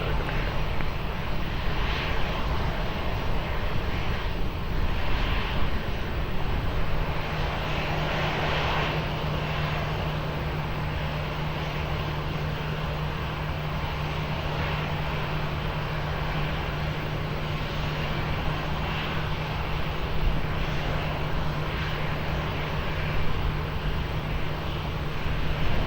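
Aircraft at Lisbon Airport, a steady distant engine roar holding throughout with a low droning tone, moderately faint and with no talk over it.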